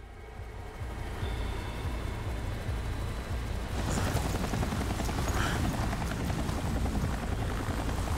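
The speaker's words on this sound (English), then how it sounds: "Chopper's about to get blown up." A helicopter in Resident Evil 4 (2023) gives a loud, steady rotor and engine roar throughout, growing heavier and rougher about halfway through.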